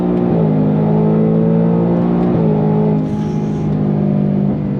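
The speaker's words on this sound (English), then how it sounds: "On throttle, here we go." A 2024 Ford Mustang Dark Horse with a matte finish and Trofeo RS tires accelerating at full throttle: a loud, continuous engine roar heard close up, rising in pitch and dropping briefly at each of two gear shifts.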